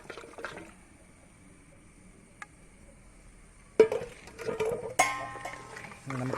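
Gravy is poured into a pot while cooking a Kerala-style beef bone curry, a quiet stretch followed by wet splashing and pouring sounds that come in uneven bursts.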